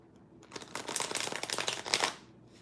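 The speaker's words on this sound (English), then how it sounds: "Let me just make sure I'm properly shuffling these here for you." A Nova Star tarot deck is shuffled by hand in a run of quick papery riffling bursts that build and fade, close and fairly soft, with no talk.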